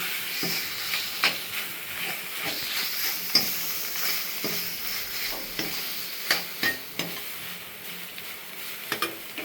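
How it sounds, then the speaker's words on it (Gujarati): A spoon scrapes and clicks repeatedly against a pan while bottle gourd halwa cooks in ghee, irregular close stirring strokes over a soft sizzling hiss. "હવે આપણો હલવો હમણાં તૈયાર થઈ જશે. ખૂબ જ હલાવી લેવાનો છે."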